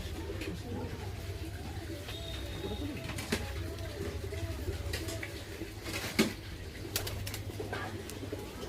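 Pigeons being dewormed coo in low, rolling calls against a steady background hum, with occasional wing flutters and handling knocks nearby.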